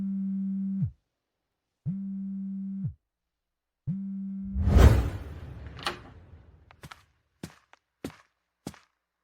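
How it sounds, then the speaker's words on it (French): A telephone ringing with three evenly spaced, steady low electronic tones, then a whoosh and a scatter of sharp clicks and taps. "Je vais répondre au téléphone"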